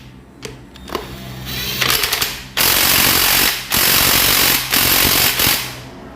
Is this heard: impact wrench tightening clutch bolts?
yes